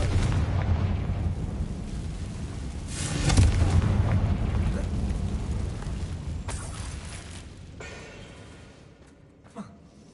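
A Confringo explosion spell cast inside a mine tunnel in Hogwarts Legacy on PS5, producing a deep rumbling boom that swells and then slowly decays, with a voice speaking briefly.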